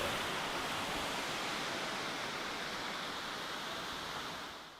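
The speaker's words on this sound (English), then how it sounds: "We're now at the waterfall" A New Zealand waterfall roars as a steady, dense wash of broadband rushing water, loud and unbroken throughout, easing slightly near the end with no voices.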